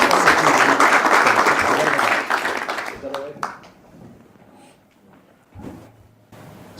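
Applause rings out for a boxing promoter at a press conference: thick, loud clapping for about three seconds, then dying away to a few scattered claps and quiet room noise.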